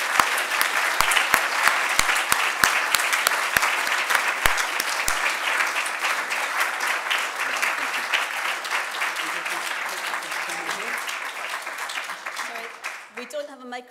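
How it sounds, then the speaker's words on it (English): Audience at a university event applauding a speaker, a steady dense wash of many hands clapping near and full for over ten seconds, then thinning and tapering off at the end. "could we perhaps have a round of applause for Jo"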